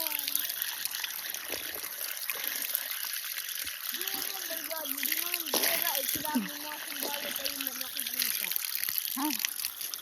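Spring water trickles and gushes steadily in a jungle setting, a continuous bright wash of flowing water with faint bubbling, while someone talks over it.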